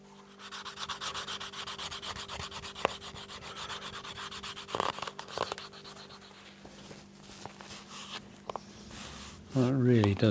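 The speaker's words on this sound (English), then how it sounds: "now I'm going to put some of this Tokonori cream on and burnish this" Soft, steady rubbing as a leather sheath edge is burnished with Tokonori cream, close and fairly quiet with occasional light taps, ending in a louder burst of friction.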